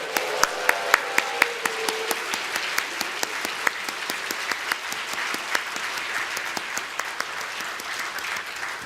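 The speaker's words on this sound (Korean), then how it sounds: "우리 다 같이 환호성을 지르면서 박수로 받겠습니다." A church congregation applauds a baptism during a Sunday service, with steady sustained clapping throughout and a brief vocal cheer near the start.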